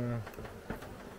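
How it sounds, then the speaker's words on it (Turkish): Caucasian honeybees buzz and beat their wings inside a hive during autumn care, a close, steady drone that opens with a stronger hum, with a voice faintly underneath. "Bak hemen birinci çerçevede bu arının kanat çırpmasından."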